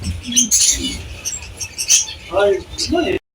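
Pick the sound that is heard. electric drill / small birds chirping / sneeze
small birds chirping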